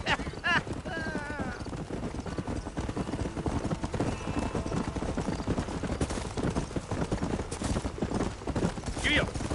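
Steady clip-clop of horse hooves at a riding pace in a Western video game, with a brief whinny and background game sounds and voices running throughout.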